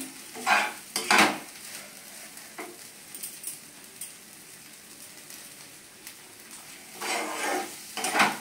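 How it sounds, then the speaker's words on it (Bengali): Pointed gourd mash is stirred continuously in a frying pan, with soft scraping strokes and light sizzling, louder at the start and end and quieter in between. "আমি কিন্তু এটাকে কন্টিনিউয়াসলি নেড়ে যাচ্ছি যাতে এটা তাড়াতাড়ি শক্ত হয়ে যায় এবং তলায় না লেগে যায়"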